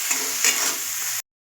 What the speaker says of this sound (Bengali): নুন, গোলমরিচ গুঁড়ো আর একটু চিনি দিয়ে এটাকেও আমরা একটু ভাজা ভাজা করে নেব